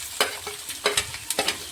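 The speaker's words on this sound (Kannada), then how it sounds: "ಈರುಳ್ಳಿ ಸ್ವಲ್ಪ ಕಲರ್ ಚೇಂಜ್ ಆಗೋ ತನಕ ನಾವು ಇದನ್ನು ಫ್ರೈ ಮಾಡ್ಕೋಬೇಕಾಗ್ತದೆ" Chopped onions fry in a pan for aloo bread pakoda, giving a close sizzle with quick scraping stir strokes in a loose rhythm of about six sharp scrapes, and no one talking.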